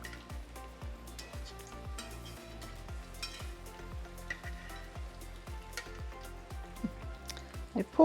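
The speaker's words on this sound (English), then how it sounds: "So we're going to fry our breadfruit until it's nice and golden." Breadfruit empanadas frying in a pot of hot oil give a steady, close sizzle and bubbling that runs throughout, with a few soft knocks near the end.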